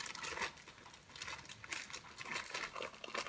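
Continuous crinkling of a plastic goodie bag being handled and pulled open, close and fairly soft, with no talking.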